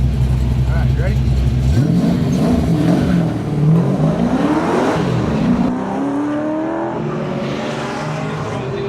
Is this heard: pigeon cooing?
no